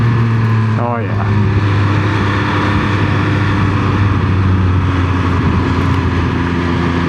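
Triumph Speed Triple 1200 RX motorcycle engine at steady cruising speed while riding, a loud continuous drone with wind noise and a brief pitch sweep near the start, heard up close throughout.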